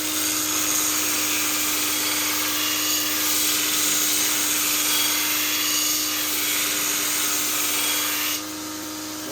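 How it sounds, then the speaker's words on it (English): A grinder thinning a W-2 steel knife blade gives a steady, loud, high-pitched whine and hiss that runs continuously before dropping off at the end. "The reason I grinded this, though, is I want this thinner."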